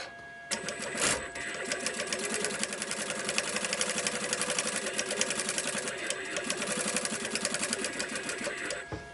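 A sewing machine runs in a steady rapid stitching burst along the zip of a quilted padded crossbody backpack, starting after a brief click and running continuously, close and fairly loud, no voices.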